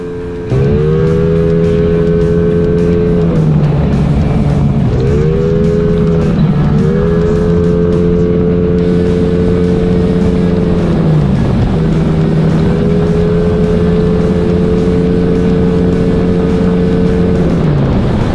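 Motorcycle engine on a road test ride, with the exhaust pipe noted as loud: a steady, droning exhaust note that drops briefly at gear changes near 3.5, 6.5 and 11.5 seconds and then holds again, loud and close throughout.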